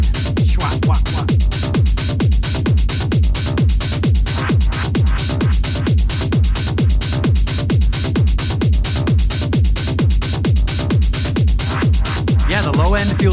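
A dense, loud music track thumps along with a strong low end and a clear, steady kick drum pulsing on every beat under busy bright upper layers, continuous throughout with no talking.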